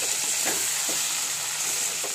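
Spices frying in a pan with chilli while being stirred, a steady close sizzle with soft scraping strokes of the spoon running throughout, no voices.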